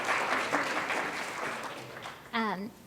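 A classroom audience at a university lecture gives a brief round of applause for a student leader; the clapping fades as a voice begins speaking near the end.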